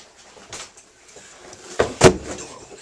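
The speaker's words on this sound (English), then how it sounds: "Open the door all the way." A door at a doorstep is pushed all the way open: a faint knock early on, then two louder clunks close together near the end, with no voices.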